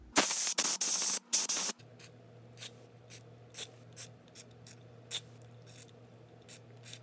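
DeoxIT contact cleaner is sprayed into the potentiometers of a Carvin Pro Bass 200 amplifier in several short, close hissing bursts, followed by quiet, scattered small taps and clicks.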